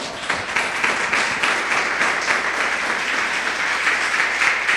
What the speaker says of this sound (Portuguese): Louve a Deus com suas palmas.